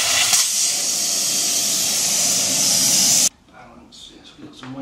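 A loud, steady hiss of compressed air blasts for about three seconds as a Royal Enfield Himalayan 450 tyre is seated on its bead with no valve fitted, then cuts off abruptly, leaving quieter workshop sounds and faint voices.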